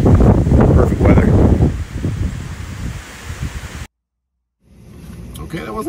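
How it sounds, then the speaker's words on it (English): Strong wind on a gusty day buffets the microphone outdoors as loud rumbling gusts that ease off, cut to brief silence, then return more softly with faint rustling. "It's really windy, but it's like perfect weather."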